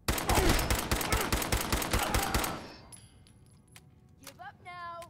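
Rapid automatic gunfire from a Fallout 4 firefight hammers loudly and continuously for about two and a half seconds, then cuts off, leaving faint clinks and scattered game effects.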